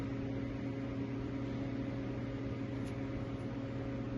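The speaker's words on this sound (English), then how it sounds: "have the exhaust fan going because I smoked myself out" An exhaust fan runs in a garage with a steady, faint whir and low hum, unchanging and alone for a few seconds.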